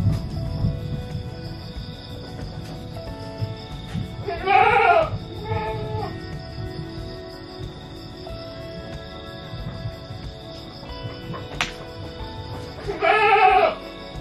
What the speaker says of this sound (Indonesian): kita langsung lihat saja kambing-kambingnya.